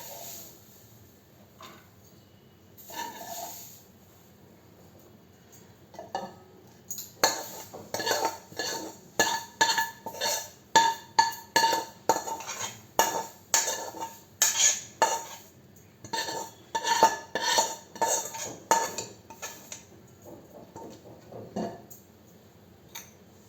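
Fried gooseberries are scraped from a pan onto a plate, with quiet scattered clinks at first, then a busy run of metal spoon clatters against the pan and plate, close and sharp.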